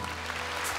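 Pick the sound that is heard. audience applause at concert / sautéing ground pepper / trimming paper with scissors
audience applause at concert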